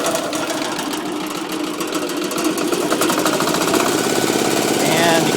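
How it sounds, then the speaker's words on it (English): Gravely Model L8 tractor with a 10 hp diesel engine running after an electric start, a loud, close, rapid rhythmic clatter holding a steady pace that grows slightly stronger toward the end. "you can hear the engine run"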